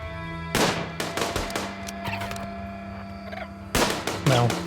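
Gunfire from shooting practice in the video game RimWorld. Sharp, loud shots come in irregular bursts, with a quiet stretch in the middle and another cluster near the end.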